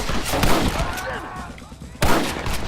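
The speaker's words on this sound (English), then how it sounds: "Get ready to hold off their fire, Marston." Gunfire in the Western video game Red Dead Redemption: a few sharp shots crack close by, with a pause and then another burst near the end, over a busy battle background.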